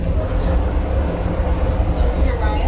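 Denali Star passenger train running through Alaska, a steady low rumble of rolling wheels and car noise filling the space continuously, with voices talking faintly over it.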